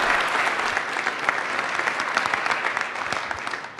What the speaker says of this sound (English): a big round of applause for Joe Lieberman.